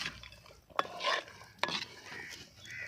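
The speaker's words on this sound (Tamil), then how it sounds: "பச்சை மிளகாய் ஏற்கனவே வதக்கி வச்சுருந்தது, அதையும் போட்டு நல்லா கிண்டாங்க" Green chillies that were sautéed earlier are stirred into a pot of peppery South Indian chicken soup, giving two sharp spoon knocks against the pot followed by a soft scraping, sloshing stir, close and alone.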